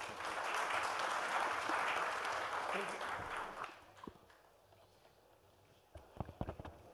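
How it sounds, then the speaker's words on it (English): An audience at a Saudi India business forum claps for two speakers, a dense burst of applause that holds for several seconds, then fades to a quiet room with a few scattered last claps. "May I request each of you to have a round of applause for both our speakers."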